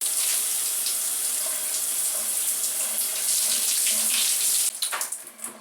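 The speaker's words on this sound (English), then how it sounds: "I'm gonna start off by rinsing the conditioner off of my hair" Water runs steadily and loudly from a tap while conditioner is rinsed out of hair, then breaks into splashes and trickles as the flow is interrupted near the end.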